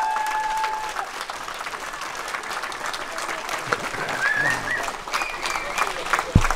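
Crowd applause for contestants at a chili-eating competition, sustained close clapping from many hands with cheers and scattered voices mixed in, swelling slightly toward the end.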